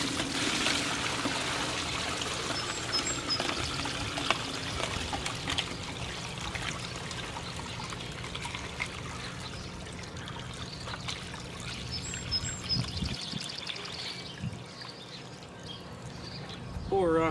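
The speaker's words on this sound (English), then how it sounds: "we're gonna go ahead and pick her up and pour." Wet mud pours from a bucket into a brick fire pit outdoors, a long sloshing trickle and gurgle that carries on for many seconds, with faint birds and occasional handling noise around it.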